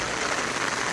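Steady heavy rain falling outdoors during a long rainstorm, an even broadband hiss of drops on surfaces with no other sounds.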